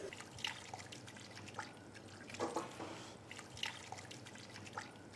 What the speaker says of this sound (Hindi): अब स्टेज आ गया है कि हम यहाँ पे मिलाएंगे पानी। मिलाते हैं पानी,